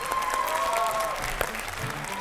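Audience applause for four contestants on an Islamic general-knowledge quiz show, a steady dense clapping that holds for about two seconds, then cuts off abruptly.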